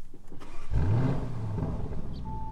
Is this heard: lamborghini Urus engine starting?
yes